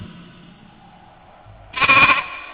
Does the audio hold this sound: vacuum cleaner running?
no